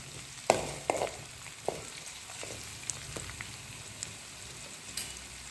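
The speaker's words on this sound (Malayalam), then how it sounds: "വറവിടാനായിട്ട് ഞാനിവിടെ ഉള്ളി, വേപ്പിൻ്റെ ഇല, കടുക് ഇതൊക്കെ ഇവിടെ ഇട്ട് റെഡിയാക്കിയിട്ടുണ്ട്" Onion, curry leaves and mustard seeds sizzling in hot oil for a tempering, a steady crackling fry broken by scattered sharp pops, close and moderately loud.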